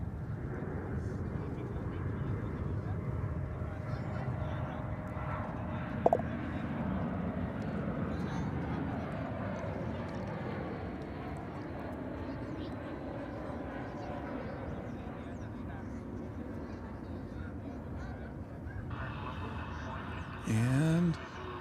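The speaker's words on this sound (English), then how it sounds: "A320 coming in from Mexico City?" An Airbus A320 arriving from Mexico City lands at Dallas/Fort Worth airport, a steady distant engine roar rumbling throughout while someone talks over it.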